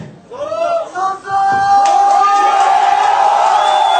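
A crowd at a freestyle rap battle shouts and whoops, starting with a few voices and swelling into a loud, sustained roar of yelling that carries to the end.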